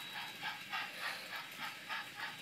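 A New York Central steam locomotive hisses in steady, rhythmic bursts, about two per second, each a breathy rush of steam over a faint background.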